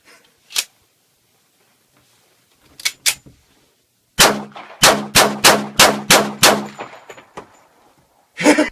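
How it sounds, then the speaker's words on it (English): Gunfire from a recorded shooting session: a few scattered single shots, then a quick run of about six loud, sharp bangs with a metallic ring, and a final shot, with no talking. "Insert clip of me shooting gun."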